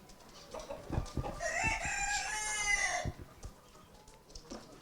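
A voice imitates a rooster's crow, drawing out a long, loud cock-a-doodle-doo with strained, harmonic overtones over about two seconds, set among a group joking about a crowing contest, with clucks and short vocal bursts around it.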